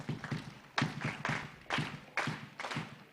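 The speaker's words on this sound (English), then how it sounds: "give another round of Loyalian applause" Students clapping at a school inter-house athletic meet at Loyola College, Negombo: several bursts of loud, close applause that swell and fade in quick succession, with no talk over them.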